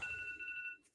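A phone alarm rings out as a steady electronic tone, sustained for most of a second and then cutting off, fairly quiet indoors with no talk over it.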